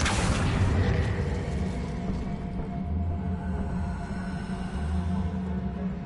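Incendio fire spell bursting repeatedly in Hogwarts Legacy on PS5, a loud roaring whoosh and boom with low rumbling pulses that swell and fade across the clip, no voices.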